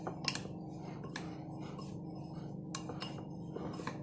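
Melted butter being mixed into breadcrumbs in a bowl, heard as soft, repeated clinks and scrapes of a utensil against the bowl, with a quiet room in the background.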